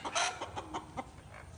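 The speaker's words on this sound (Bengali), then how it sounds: "একটা মুরগির ডিম পাড়তে কত কষ্ট হয় দেখুন" A desi hen laying an egg clucks in a quick series of short, strained calls, close and fairly quiet, with no talking.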